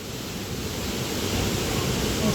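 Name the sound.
water rushing down a waterfall stream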